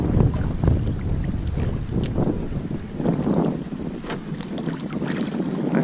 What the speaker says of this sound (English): All right, keep paddling.